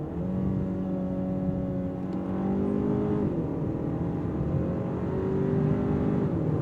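Engine of a 2024 Hyundai Sonata N Line pulling hard under acceleration, its steady drone rising in pitch through each gear, with prompt shifts dropping the tone before it climbs again, heard from inside the car.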